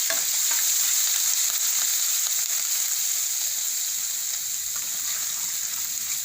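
Steady loud sizzling of hot oil in a pan with bay leaf, curry leaves, spices and ginger before tomatoes go in, a continuous close crackling hiss with faint stirring.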